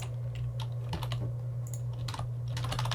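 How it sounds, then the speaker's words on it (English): Keys clatter in bursts of quick typing on a computer keyboard, tapping irregularly over a constant low electrical hum. "say if I'm typing some chat here"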